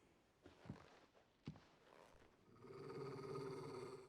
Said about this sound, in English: Oh, he doesn't like that. He's growling.